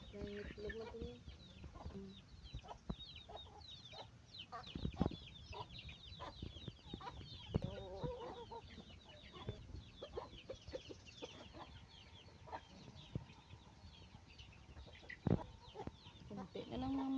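Pet chickens outside a large coop cluck and chatter in a soft, irregular stream, with scattered sharper calls and rustling, fairly quiet with a little faint talk.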